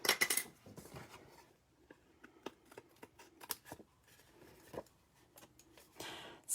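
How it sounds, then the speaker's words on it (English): Quiet snips and crisp rustles of scissors trimming paper strips for a card, irregular clicks spaced across the stretch, close by. "we're going to use our scissors"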